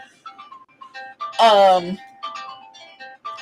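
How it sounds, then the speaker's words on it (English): A mobile phone plays a melodic ringtone of bright stepped tones, loud and close in a room, with a person talking over it. "Sorry, my phone just turned on."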